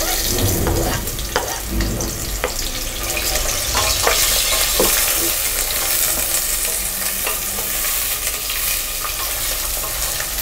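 Onions frying in oil in a pan for chicken biryani, with whole spices such as cinnamon, cloves and star anise, giving a steady close sizzle with occasional stirring scrapes throughout, no talking.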